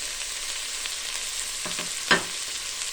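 Red bell peppers and garlic fry in a hot pan, giving a steady sizzle with a few brief stirring scrapes near the end, close and fairly quiet, with no voices.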